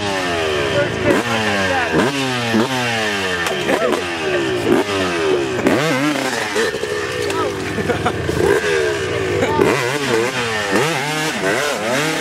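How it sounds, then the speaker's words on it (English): A Beta dirt bike engine kick-started and revved hard, loud and close, its pitch repeatedly sweeping up and falling back in rapid throttle blips throughout, with voices talking over it. "This is a beta. Look at this. First kick."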